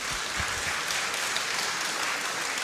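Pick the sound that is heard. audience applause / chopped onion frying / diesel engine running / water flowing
audience applause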